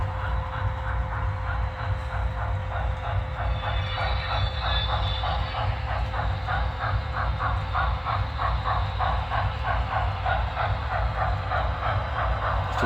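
A model steam train, a White Pass passenger excursion, runs around a layout with a steady rhythmic chuffing and clicking of wheels over track, continuous and fairly close, with no voices.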